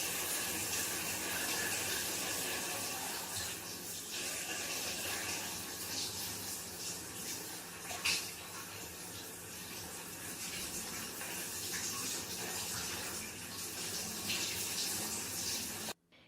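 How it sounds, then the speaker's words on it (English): A hot shower runs steadily in a mountain home, a soft, even hiss of spraying water that continues unbroken and fairly faint, with no voices, before cutting off abruptly. "He reached in and let the shower run on hot for a moment."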